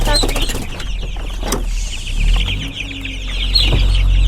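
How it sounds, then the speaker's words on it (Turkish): A crowd of Ross 308 broiler chicks chirps loudly and continuously in a dense, high-pitched chorus, with occasional close thumps and handling noises. "Rose et civcivlerimiz."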